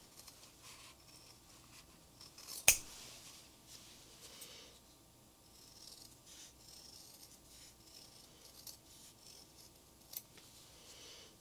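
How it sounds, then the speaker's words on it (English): A sturdy small pair of scissors snips fabric leaves close to their stitching in quiet, irregular cuts and rustles, with one sharp louder click early on. "I've got a sturdy little scissor here, and I'm just going to kind of cut these kind of close to the stitching"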